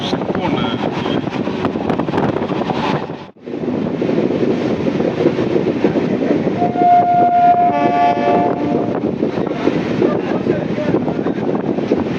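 A DEMU passenger train on the Karaikal to Trichy service, heard from on board: a steady, loud rumble of running wheels and motor throughout, with a brief dropout near the start and a faint tonal whine midway.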